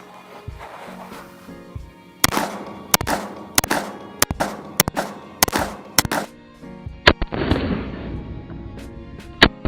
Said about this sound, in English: this is a few rounds through the Atlas Artemis.